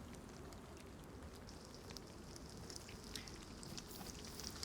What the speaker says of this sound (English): Alright, we can hear it sizzling.